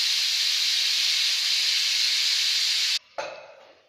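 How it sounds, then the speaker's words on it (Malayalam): A pressure cooker vents steam in a Kerala home kitchen while making varutharacha sambar, giving one loud, steady, close hiss that cuts off abruptly, then a shorter sputtering release that fades away. "ഇനി ഈ വിസിൽ നമ്മൾ തന്നെ പ്രഷർ കംപ്ലീറ്റ് കളയണം"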